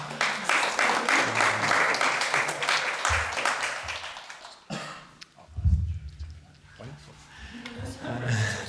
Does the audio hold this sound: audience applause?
yes